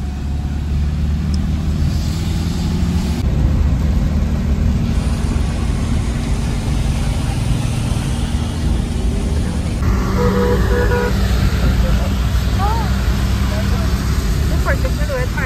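A car carrying a family rolls along a road toward Alandi and Pandharpur, its steady engine and tire rumble filling the cabin with passing traffic, while people talk over it.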